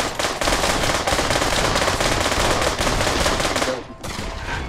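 Rapid automatic gunfire in the VR shooter Pavlov, a dense, loud, sustained burst of shots that continues nearly five seconds before cutting off abruptly near the end.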